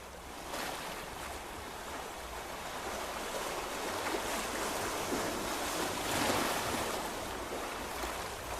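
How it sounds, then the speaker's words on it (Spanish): Rough sea waves roll in a continuous wash of surf, steady and broad, with a slight swell of loudness near the end and no voices. "¿Qué te hace pensar escuchar el mar?"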